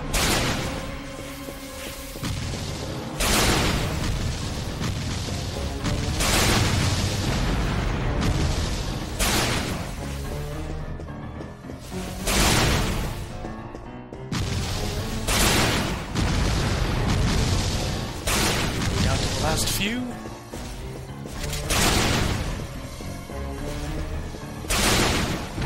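Repeated booming explosions from the Dyna Marisa 3D video game, loud and dense, bursting every second or two over a constant roar of game noise for the whole stretch.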